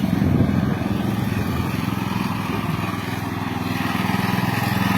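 A homemade small tractor with dual wheels runs its engine at a steady rough chug, loud and close, with a slight surge in the first moment and no talk over it.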